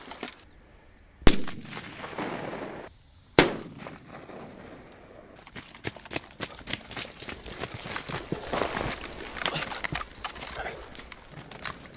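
Military drill near a border, with two sharp loud blasts from a grenade and gunfire early on, followed by a long stretch of irregular clattering impacts and scattered shots at moderate distance.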